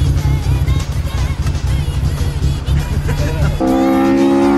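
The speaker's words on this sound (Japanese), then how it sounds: "リアルを追求する映像と表裏一体ともいえるエンジンや車の挙動音。" A race car recorded at the limit on a mountain pass for Initial D. The engine roars loudly and close alongside driving noise, and a steady tonal sound takes over near the end.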